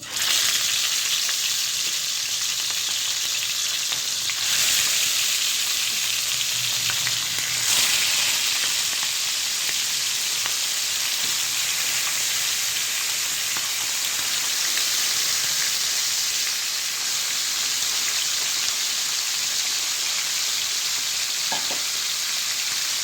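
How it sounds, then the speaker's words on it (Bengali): Small puti fish fry in hot oil with a steady, dense crackling sizzle that fills the whole stretch, loud and close with brief louder bursts, no talk. "তেলটা গরম হয়ে গেছে মাছগুলোকে ভেজে নেবো"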